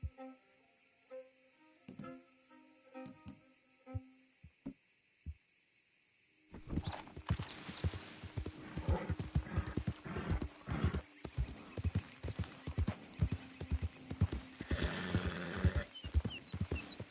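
A horse in Red Dead Redemption 2 neighs in sharp, tonal bursts, then gallops with fast, steady hoofbeats against a wider game soundscape, close and clear.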